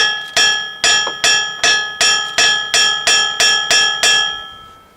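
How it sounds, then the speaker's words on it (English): A hammer strikes a metal propeller puller on an inboard boat about ten times in an even rhythm, each blow ringing with a bright, bell-like tone that fades before the next. "we'll grab our hammer, and what we're going to do is just impact right on the back side of the puller"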